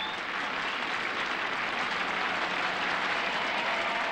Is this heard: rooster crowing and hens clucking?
no